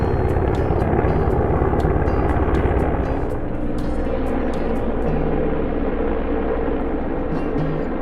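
An Mi-17 helicopter flies over mountain terrain near Namche Bazaar in Nepal, a steady distant rotor rumble with faint chopping and wind noise throughout.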